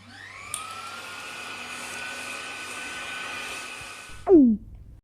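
A steady, droning vacuum cleaner motor runs for several seconds, then cuts off abruptly with a short, rising squeal at the end.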